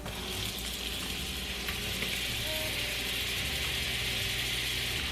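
Olive oil and butter sizzle steadily in a pan, a constant close hiss of frying with a low background hum and no talk.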